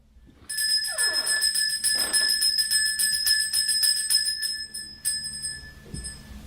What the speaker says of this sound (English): Listen to the sound of this bell.